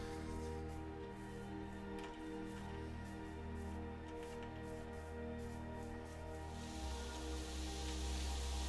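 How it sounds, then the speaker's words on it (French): Rain falls in the video game Minecraft, a steady close hiss of drops layered over game music, with the downpour swelling louder near the end. "Oh non, il pleut!"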